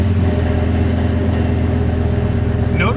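A Dodge V10 engine runs steadily with a deep, continuous low rumble from its exhaust, close and fairly loud, with no distinct pops standing out.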